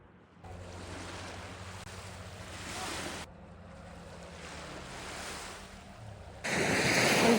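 Sea surf washes onto a beach at Nordkapp in northern Norway, a soft steady rush of waves mixed with wind buffeting the microphone, growing to a louder gust near the end, with no voices.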